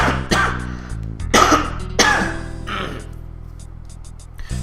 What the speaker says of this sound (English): I'm still coughing a lot.